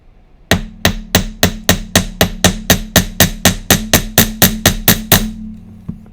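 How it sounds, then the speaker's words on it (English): A chasing hammer strikes a metal bangle in about sixteen evenly spaced, sharp ringing blows, close and loud, followed by one faint tap after a pause. "is our basic chasing hammer. I might mute it so you don't have to deal with the sound."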